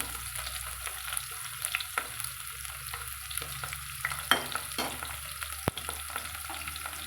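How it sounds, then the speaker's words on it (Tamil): Onion and green chilli fry in oil for mutton biryani with a constant close sizzle. Occasional scrapes and clinks come from stirring in the pan. "வள்ளையார் வெங்காயம் போட்டுக்கிறேங்க பச்சை மிளகா வெட்டி வச்சுக்கிறதையும் கூட சேர்த்து போட்டுக்கோங்க"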